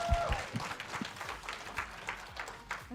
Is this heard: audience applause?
yes